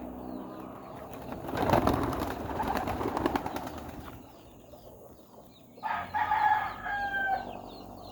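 Racing pigeons are released near a loft, with a burst of flapping wings and fluttering that rises and fades, then birds calling and clucking close by.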